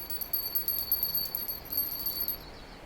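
In the Russian Fishing 4 video game, the second bite indicator bell rings as a rapid series of thin, high metallic chimes, repeating quickly and fairly quietly over a soft hiss before trailing off.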